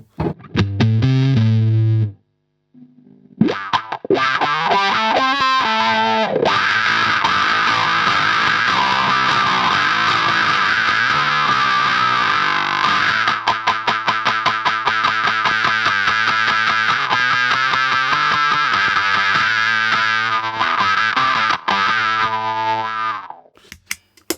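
Electric guitar through a Carl Martin Ottawa AutoWah with its high-pass filter, twangy and buzzing with distortion; a brief pause early, then continuous rapid strummed notes, loud and close.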